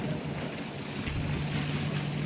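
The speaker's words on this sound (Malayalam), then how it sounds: "കാറ്റ് വന്നു കഴിഞ്ഞാൽ ചെവിയെല്ലാം പോകും" Strong wind blowing outdoors in Greenwich, London, on a rainy day, roaring and buffeting close to the microphone as a continuous loud rush with gusty swells and no voices.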